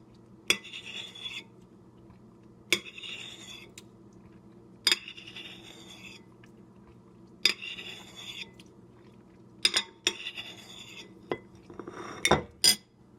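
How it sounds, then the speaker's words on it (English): A spoon repeatedly scrapes and clinks against a plate to gather leftover egg yolk, with sharp metallic taps at irregular intervals, close and fairly quiet between strokes. "So I'm going to just use a spoon to get the remaining yolk"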